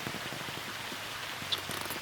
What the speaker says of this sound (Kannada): ಈಗ ಮಳೆ ಬೀಳ್ತಿದೆ.